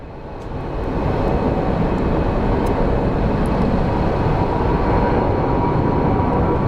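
Sun Country Airlines Boeing 737 jet at Phoenix Sky Harbor, a loud steady roar that swells within the first second and holds broad and constant to the end, with no voices.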